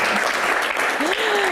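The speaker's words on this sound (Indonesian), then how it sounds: "Tepuk tangan dulu dong" A crowd's applause at a question-and-answer session fills the whole stretch as a steady dense patter, with voices talking over it.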